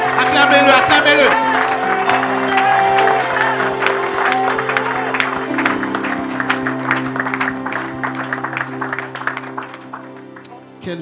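French-speaking church congregation at a Sunday morning celebration applauding and cheering for God, loud clapping and shouts over sustained organ or keyboard chords, the noise gradually tapering off.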